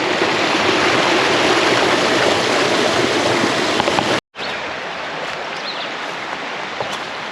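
A woodland stream at Nothstein Preserve in Cresco, Pennsylvania rushes over small cascades with a loud, steady splashing roar, broken by one brief cut before continuing slightly softer.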